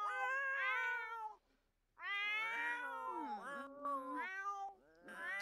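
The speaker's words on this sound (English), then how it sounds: "I'm finna feed her cats for her because they loud as hell." Cats in The Sims video game meow loudly and repeatedly in long, drawn-out, wailing calls, several overlapping, with a short pause before the yowling resumes close and insistent.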